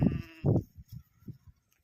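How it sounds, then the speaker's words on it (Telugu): Two loud sheep bleats close by, one right after the other, followed by softer, fainter bleats and calls trailing off in the background. "అక్కడ వేరే గొర్రెలు అరుస్తున్నాయి అనమాట పిల్లల కోసం"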